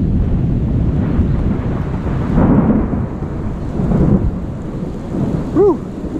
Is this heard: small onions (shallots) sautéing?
no